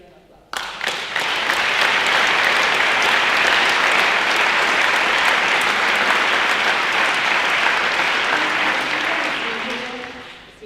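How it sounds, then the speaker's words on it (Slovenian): Audience at an orchestra concert in the Slovenian Philharmonic breaks into sustained, dense applause that swells quickly and holds steady for several seconds before tapering off. "za kar mislim, da si zaslužijo poseben aplavz"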